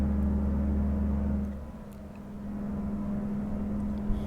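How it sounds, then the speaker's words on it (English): Cummins truck engine with an automated transmission in American Truck Simulator hauling heavy cargo, a loud steady low drone that drops briefly as it upshifts, then builds back to a steady hum. "It shifted up once we reached flat ground."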